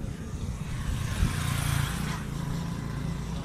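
A 65hp farm tractor engine running outdoors, a steady low rumbling idle with one brief knock near the start, moderately loud and unbroken.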